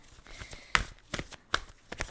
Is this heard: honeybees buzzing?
no